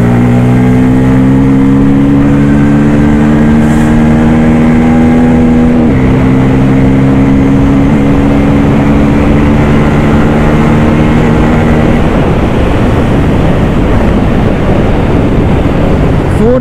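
A 2024 Bajaj Pulsar N250 motorcycle engine climbs steadily in pitch under acceleration, shifting around six seconds and then pulling hard into fourth gear, loud and close with rising wind roar on a street ride.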